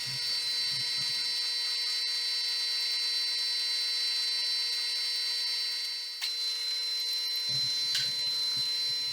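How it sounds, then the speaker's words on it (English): A lathe bores a through hole in a cast flywheel, giving a steady, loud whine with a high metallic ring that holds throughout, plus a low rumble at the start and the end. "Now boring the through hole to about 15th thou undersize from final dimension."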